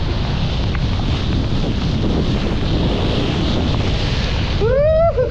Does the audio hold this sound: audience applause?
no